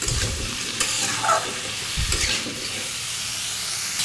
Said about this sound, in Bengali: হলুদের গুঁড়ো, ধনিয়া গুঁড়ো দিয়ে সুন্দর করে ভাজা করে দেবো ফুলকপিটা।